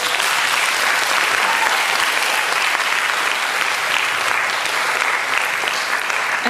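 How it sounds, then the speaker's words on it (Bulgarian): A concert audience celebrating the union's 35th anniversary bursts into dense, sustained applause, a loud steady wash of many hands clapping with no talk over it. "Аплодисменти още веднъж за тях!"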